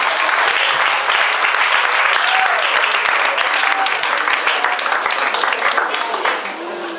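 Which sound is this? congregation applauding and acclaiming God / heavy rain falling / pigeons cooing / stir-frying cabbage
congregation applauding and acclaiming God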